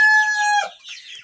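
Rooster crowing loudly and close at a poultry farm, one long drawn-out crow tailing into softer clucking chicken sounds.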